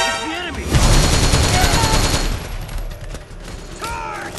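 Dense gunfire from a Metal Gear Solid 4 battle, a loud fusillade of rapid shots dominating the first two seconds before thinning into scattered, fainter bursts, with shouted voices heard alongside.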